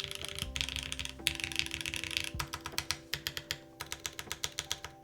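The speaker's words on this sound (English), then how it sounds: "Numpad sound test?" Mechanical keystrokes rattle across a QK101 keyboard's numpad, starting as dense, fast typing and thinning into a steady run of separate, close, crisp clacks, each one clearly defined against a faint background hum.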